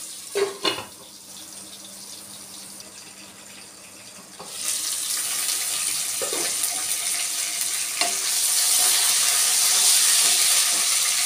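Sliced onions dropped into hot oil in a pan for a bottle gourd curry, first a couple of clatters, then a loud, steady sizzling hiss that rises and holds, with no talk.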